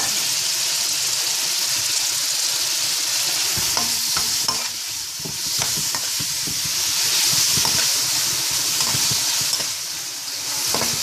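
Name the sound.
frying and stirring salted cod in oil and butter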